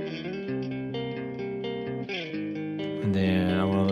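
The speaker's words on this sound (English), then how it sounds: "Let's say we want to go listen to some electric guitars." Soloed electric guitars from a mix in Harrison Mixbus play distorted sustained chords with effects, changing chords every half second or so, ending on a brighter, louder strummed chord; no voices.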